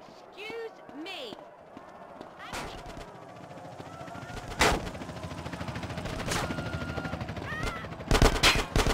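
Police gunfire in the video game GTA San Andreas, a run of sharp loud shots and bursts scattered between game sounds and effects, with a player talking over it.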